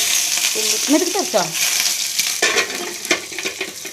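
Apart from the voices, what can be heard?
mustard seeds spluttering and frying in a pan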